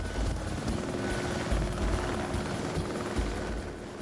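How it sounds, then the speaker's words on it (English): A helicopter takes off over the Laurel Highlands mountains near the Youghiogheny River, its steady, loud rotor chop and engine roar filling the whole stretch and easing slightly toward the end. "Here you see the helicopter taking off to get a shot of the mountains and the Youghiogheny River."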